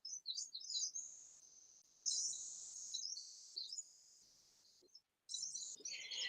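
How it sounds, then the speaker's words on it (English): Several small birds chirp and tweet in quick bursts from trees outdoors, bright and clear but fairly quiet, with short gaps between phrases and no one talking. "I love birds, as you know. They're singing out there in the trees already."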